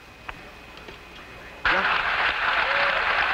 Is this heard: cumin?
no